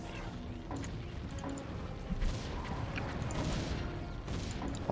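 Cannon towers going up one after another in the tower-defense game Defense Grid, giving a steady run of mechanical clanks and booming impacts over a constant game backdrop.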